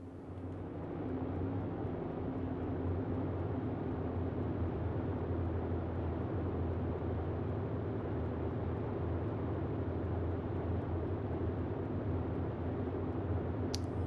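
Twin propeller engines of a Boeing 247D in Microsoft Flight Simulator drone steadily and loudly during the climb with props set back to 2,000 RPM, a constant cockpit hum with no talking.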